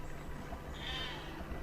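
A sheep in the video game Besiege gives a single faint bleat partway through, set against a low background hum.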